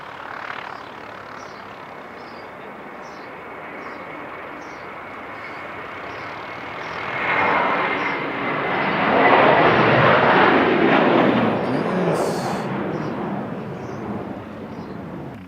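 Incoming airliner heard from an aero club beside the field, its engine roar swelling from distant and faint into a loud, broad rumble before slowly easing off; no talking.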